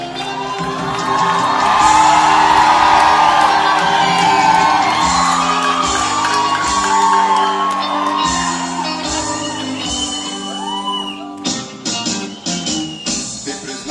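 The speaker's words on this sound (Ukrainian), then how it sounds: "Зустрічаємо оплесками." A crowd at a university concert welcomes a singer with loud sustained cheering, whoops and shouts over clapping, swelling early and then fading into scattered claps, with a musical backing tone underneath.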